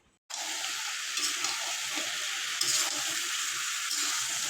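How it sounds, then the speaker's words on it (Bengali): Chicken kosha fries in a home kitchen pan, a loud, steady sizzle bursting in after a brief silence, with scraping stirs and crackles throughout and no voices. "এখানে আমি একটু চিকেন কষা করে নিচ্ছি।"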